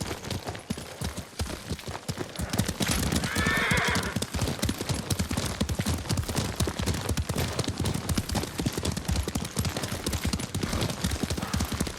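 A horse gallops steadily in Ghost of Tsushima, rapid clip-clopping hoofbeats in a continuous rhythm with a brief whinny early on, loud and close over an outdoor ambience.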